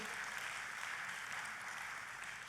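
A church congregation applauds during a sermon, a broad steady wash of clapping that holds at an even level throughout and sounds somewhat distant.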